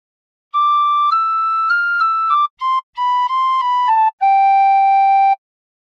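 A tin whistle plays a short phrase of God Defend New Zealand, clear bright sustained notes in a simple sequence with brief gaps between them, solo and close.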